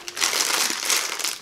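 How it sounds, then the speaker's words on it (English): A plastic packet of Indomie Mi Goreng instant noodles, a green-noodle variety, is torn open with a steady burst of loud close crinkling and crumpling lasting over a second, with no talk. "Let's crack this open and see what these green noodles are like."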